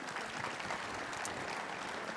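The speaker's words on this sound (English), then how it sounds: "Let's give these guys a round of applause for joining us here." Audience applause at a general session of the 37th International Fuel Ethanol Workshop & Expo, a dense, steady patter of clapping hands filling the hall at moderate volume, with no speech.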